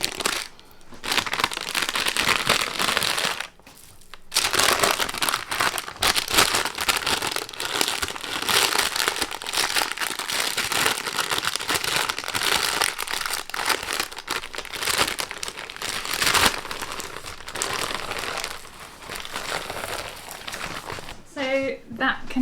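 Baking paper crinkles and rustles as a sugar-coated Swiss roll is rolled in it, a loud, near, continuous papery crackle with one short pause early on and brief softer handling near the end.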